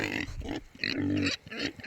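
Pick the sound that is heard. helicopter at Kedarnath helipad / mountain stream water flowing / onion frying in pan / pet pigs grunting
pet pigs grunting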